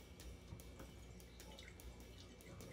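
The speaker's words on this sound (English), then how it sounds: "Funnel, sieve, hold the sieve, and I'm gonna gently pour out" Alcohol-based double-extracted mushroom tincture pours gently through a funnel and sieve into a jar, giving a faint, steady trickle with soft dripping throughout.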